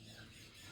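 A parrot gives a short, harsh squawk, close and fairly quiet, with no voices over it.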